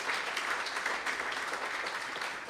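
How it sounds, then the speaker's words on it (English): Steady audience applause at a business growth coalition workshop in KwaZulu-Natal, a dense even wash of many hands clapping that holds level for the whole stretch. "And that deserves a big round hand of applause."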